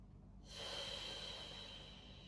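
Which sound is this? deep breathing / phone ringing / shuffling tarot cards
deep breathing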